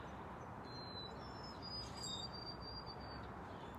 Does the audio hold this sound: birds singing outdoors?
yes